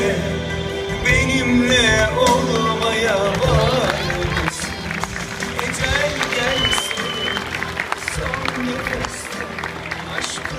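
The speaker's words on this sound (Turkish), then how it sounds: "Evet alkışlar Merve ile Sefa için geldi" Wedding guests clap for the couple at a Turkish wedding celebration, a steady, dense crowd applause that continues unbroken and fairly loud, mixed with music and the murmur of voices.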